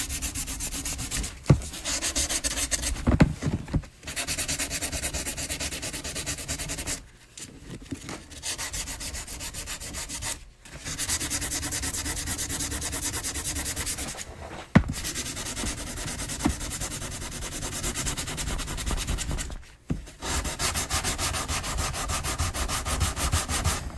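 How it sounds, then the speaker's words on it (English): Sandpaper scrubbing a prop in a prop-making shop, steady continuous rasping strokes at close range, broken by several brief pauses. "we're going to switch to 80 grit sandpaper just so we don't have to put so much elbow grease into it"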